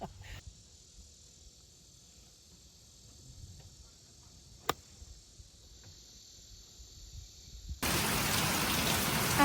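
Outdoors, crickets chirp quietly, then a loud, steady hiss of rain abruptly takes over and continues to the end.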